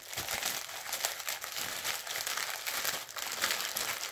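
A plastic bag full of stickers crinkles continuously for several seconds, close and fairly loud, with dense irregular rustling and no talking.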